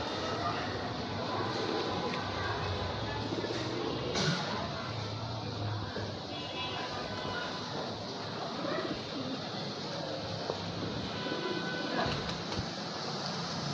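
A male pigeon coos softly amid a busy, noisy bird market, its low calls faint beneath a constant wash of background chatter and clatter.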